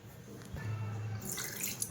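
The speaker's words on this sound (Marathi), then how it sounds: "याच्यात थोडंसं पाणी घालतेय." A short, gentle pour of a little water into pumpkin batter in a mixer jar, a soft splashing trickle lasting about a second.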